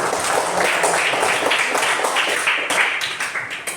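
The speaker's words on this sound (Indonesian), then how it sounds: "Ya, kasih tepuk tangan dulu" Schoolchildren in a classroom clap steadily for their group after it finishes presenting, a dense, even patter of many hands that holds for the whole stretch and begins to thin toward the end.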